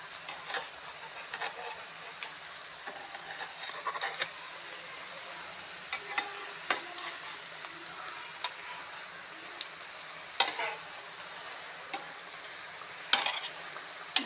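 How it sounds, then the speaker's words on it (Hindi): Egg pakoras deep-frying in oil, a constant soft bubbling sizzle broken by irregular sharp clicks and scrapes as they are turned, fairly quiet and close, no voices. "ये जो मैंने साइड चेंज कर दी है दफ़ा, ये फ्राई हो रहे हैं।"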